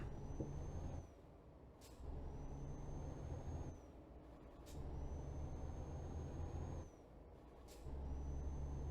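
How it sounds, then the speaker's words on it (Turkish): Air brakes on a truck in Euro Truck Simulator 2 give sharp hissing bursts at regular intervals between stretches of steady engine drone, with a high tone sounding alongside. "Çok fazla sıktık freni."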